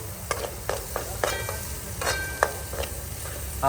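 Onion heats in a pan for soybean chilli, giving a soft, even sizzle under a run of sharp spatula scrapes and taps, fairly close but not loud.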